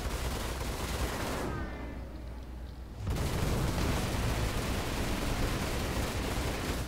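Rapid ship gunfire from an F7A Hornet in the Star Citizen space combat game, a dense continuous burst of shots that briefly thins in the middle before resuming at full loudness.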